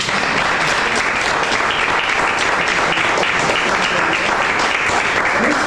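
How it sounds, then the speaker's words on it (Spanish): An audience at a June poetry evening breaks into sustained applause for an honoured speaker, a dense, loud wash of clapping that keeps up without a break. "Pues un aplauso para él"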